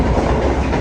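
Inside the dining car of the KA Motis Nataru Tengah passenger train, a steady, close rumble of the moving train fills the short moment.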